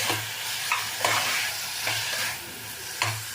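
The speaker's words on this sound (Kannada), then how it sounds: "ಹಾಗಲಕಾಯಿ ಇದರಲ್ಲೇ ಒಂಚೂರು ಬಿಸಿ ಮಾಡ್ಕೊಳ್ತೀನಿ" Bitter gourd is stirred and heated in a pan: a soft, continuous sizzle with gentle scraping strokes from the spoon every second or so.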